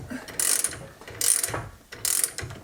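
A ratchet tightens bolts on a car cylinder head, giving three quick bursts of crisp metallic clicking at close range with brief pauses between them.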